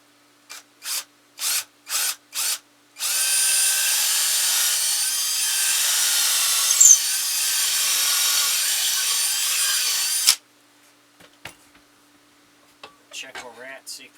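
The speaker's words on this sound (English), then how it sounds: "we're going to use an 1¼ inch drill bit to go down through here" Five short bursts of a power drill, then a long steady grinding drone of a 1¼ inch bit boring into wood, stopping abruptly; faint clicks and handling noises follow.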